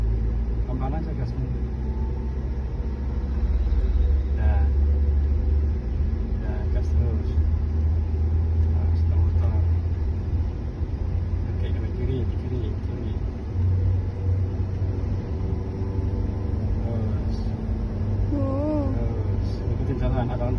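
A car accelerating slowly during a driving lesson, its steady low engine rumble running throughout beneath an instructor and learner talking.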